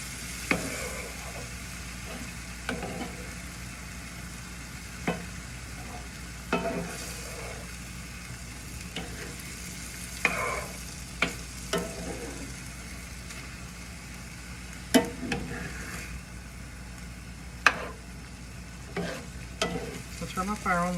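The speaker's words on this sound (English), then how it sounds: "I'm going to give this a stir" Meat pie filling with about two cups of broth being stirred in a pan, sparse spoon scrapes and knocks over a low steady sizzle and hum, fairly quiet and close, with no talking.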